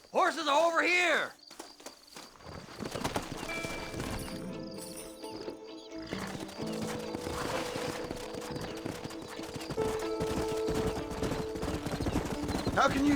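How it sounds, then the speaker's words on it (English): Horses in the Red Dead Redemption video game walk with rhythmic hoof clip-clops, along with a whinny, game music and ambient effects. The hoofbeats are moderately loud and carry on through most of the clip. "Horses are over here!"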